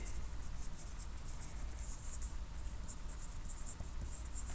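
Pen or pencil scratching out numbers by hand, soft and close, with a faint steady high hiss running throughout.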